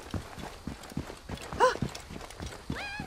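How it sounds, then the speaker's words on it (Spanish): A horse in the video game Assassin's Creed Origins clip-clops with quick, rhythmic hoof strikes, moderately close, with a brief whinny-like cry in the middle and another near the end. "Un caballito. Está quedado atascado ya."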